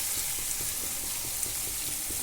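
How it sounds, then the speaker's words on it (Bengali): A steady sizzle from mutton masala frying in oil with cashew and poppy seed paste as it is sautéed, loud and continuous with no talk. "এটা খুব ভালো করে আবারও কষিয়ে নেব"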